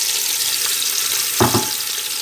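Onions frying in hot oil with cinnamon, cardamom and cloves for beef biryani, a steady, close sizzling hiss with a brief soft bump partway through.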